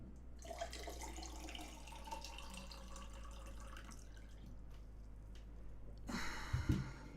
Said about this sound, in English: I'm going to pour myself another glass.